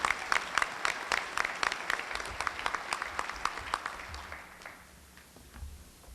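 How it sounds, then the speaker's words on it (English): An audience at a chamber of commerce gathering claps in a round of applause, dense rapid clapping that holds for a few seconds and then fades away to quiet room tone. "Let's give the city leadership and all their staff another round of applause."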